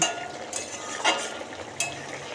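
Fish curry being stirred in a pan on the stove, garnished with coriander leaves, giving a few soft scraping and clinking strokes over a low background hiss, with no talking.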